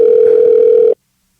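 A steady telephone tone sounds loud and close while a call is placed to someone, holding one unbroken pitch for under a second before cutting off abruptly into silence.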